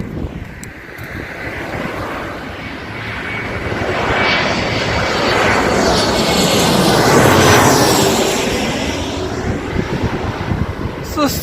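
A fixed-wing airplane passes overhead near an airport in Japan, its engine roar swelling to a peak and then fading, mixed with wind buffeting the microphone and faint voices in the background.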